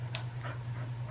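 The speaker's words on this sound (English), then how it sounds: "my dog does not like thunderstorms, so you're gonna start hearing her pant." A pet dog frightened by a thunderstorm pants softly and quickly in short breaths over a steady low electrical hum, close by and faint.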